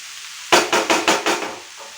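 Butter garlic mushrooms sizzling in a pan, turned with about five quick rhythmic scraping strokes, close and fairly loud, then the sizzle fades.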